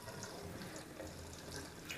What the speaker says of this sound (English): run some cold water and just run it over the boot